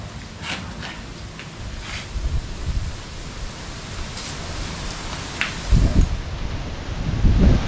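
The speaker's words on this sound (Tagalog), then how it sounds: "Sa lakas ba naman ng hangin?" Strong wind blows steadily outdoors, rustling nearby and buffeting the microphone in low rumbling gusts that grow louder toward the end, with no talking.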